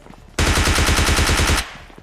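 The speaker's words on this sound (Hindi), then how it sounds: "भाई साहब के ऊपर गोलियां छोड़ी जाती हैं" Gunfire from a battle royale video game: a loud, rapid automatic burst of evenly spaced shots lasting over a second, then cutting off abruptly.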